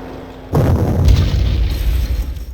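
A heavy artillery blast from the World War II strategy game Panzer Corps hits suddenly after a quiet moment, then rumbles in a dense, rolling boom that slowly fades.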